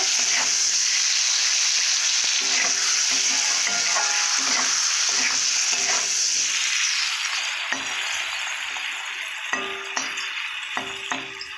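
A pea kachori filling sizzles steadily in a pan while chili powder is mixed in, the loud frying hiss broken by repeated scrapes and clinks of a spatula that grow sharper toward the end.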